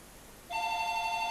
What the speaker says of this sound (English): so my phone is ringing